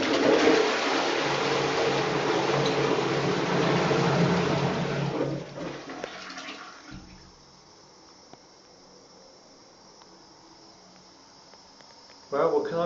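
A public toilet flushes in a cemetery restroom in East Sussex, a loud rushing gush of water that fades into a quiet hiss and trickle, with a brief noise returning at the end.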